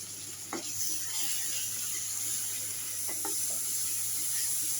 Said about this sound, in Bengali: এখন আমি এটা নাড়িয়ে নেব।